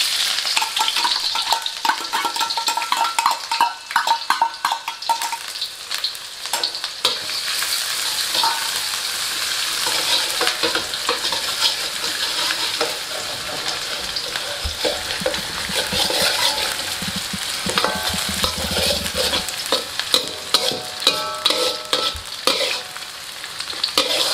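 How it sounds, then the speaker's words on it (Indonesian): Rice vermicelli stir-fried with shallots and garlic in a pan, a continuous loud sizzle with the repeated scrape and clatter of a utensil stirring throughout, close and without speech. "Pertama kita bikin dulu bihun goreng."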